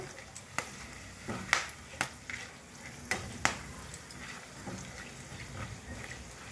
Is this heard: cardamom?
yes